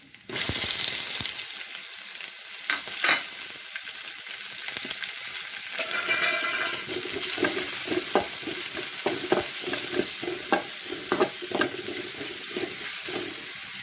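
Onions and green chillies frying in a pan with cloves for a chicken stew: a steady, close sizzle with repeated stirring scrapes and clinks, and no talking.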